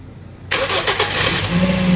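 A Toyota Vios third-generation engine, just after a top overhaul, cranks and catches abruptly, then settles into a loud, steady, slightly high idle with a faint high whine above the rumble.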